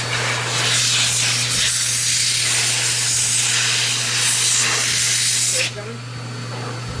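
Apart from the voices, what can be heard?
pet grooming dryer blowing out cleaned grooming tools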